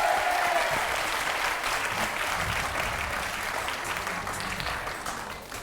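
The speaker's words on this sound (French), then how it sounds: "Il l'a fait, on peut l'applaudir quand même" A TV game show studio audience applauds contestant Frédéric with a steady, fairly distant wash of clapping that holds evenly throughout.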